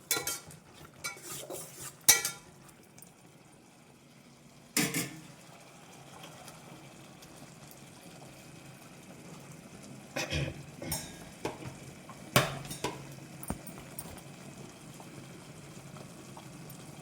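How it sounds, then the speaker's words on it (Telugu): Fenugreek leaves being added to dal and stirred in a pot, with scattered clinks and scrapes of a utensil against metal over a quiet simmer, louder bursts near the start and the end. "మొత్తం మెంతాకులన్నీ వేసుకున్న తర్వాత వీటిని శుభ్రంగా కలిపి సిమ్లో పెట్టి ఉడకనిద్దాము"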